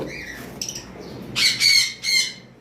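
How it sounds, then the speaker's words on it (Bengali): Albino lovebirds at a bird shop give shrill squawks, two louder bursts near the end following a few softer chirps, close and with no talk over them. "আপনারা যে অ্যালবিনো লাভবার্ডগুলো দেখতে পারতেছেন"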